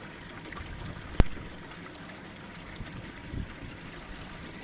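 Water trickles and pours steadily into a garden koi pond being refilled, a faint continuous wash close by with one sharp click near the start and no voices.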